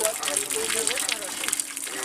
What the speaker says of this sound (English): Now we have drilled, the water is out and it is too much.